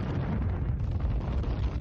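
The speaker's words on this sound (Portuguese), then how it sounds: "Portanto, é como uma explosão subterrânea." A deep, rumbling underground explosion sound effect roars continuously, heavy in the low end and filling the whole short stretch without any voice.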